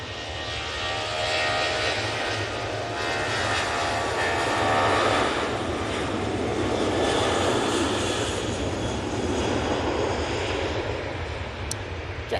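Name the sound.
Jet2 Boeing 737-800 jet on takeoff roll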